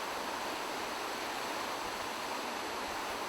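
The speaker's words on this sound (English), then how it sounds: "be sure to take a detour and see the Posforth Gill waterfall, especially after an April shower" Posforth Gill waterfall in Wharfedale in the Yorkshire Dales, running full after an April shower: a steady, dense roar of falling water that fills the whole clip with no voices.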